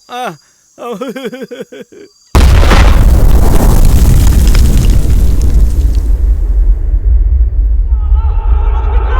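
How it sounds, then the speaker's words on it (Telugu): A bomb detonates in a movie action scene, a sudden loud blast with a long rumbling roar that follows. Brief cries and music come before it. "నేనేరా మిమ్మల్ని కాపాడడానికి బాంబు వేశాను"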